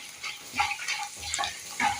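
Chana dal and two dried red chilies fry in a pan until browned, giving a faint, uneven crackle with soft stirring scrapes, steady and fairly quiet throughout.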